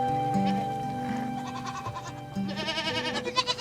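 Herd goats in the Omani desert mountains bleating, several wavering calls rising over a steady tonal drone, with louder, closer bleats toward the end and no speech.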